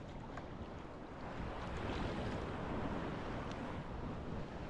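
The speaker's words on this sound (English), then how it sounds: "We have some waves" Small waves washing onto a tiny sandy beach in St. Paul's Bay, Malta, as a soft, steady wash heavily blended with wind buffeting the microphone, fairly quiet and with no talking.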